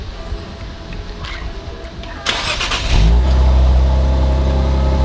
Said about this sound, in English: let me just start it for you guys real briefly